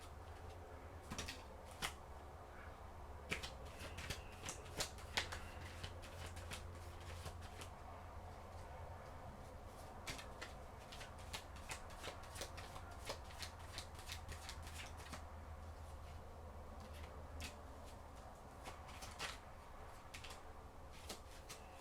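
A deck of tarot cards is shuffled close by in quiet surroundings, producing repeated riffling bursts and soft clicks in an irregular rhythm over a low background hum.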